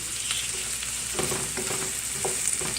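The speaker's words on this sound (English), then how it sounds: "Be very careful when you do this because it does spit the oil back out." Onions frying in hot oil for chili paneer, with the oil spitting back: a close, steady sizzle and hiss with scattered sharper crackles and pops throughout, no voices.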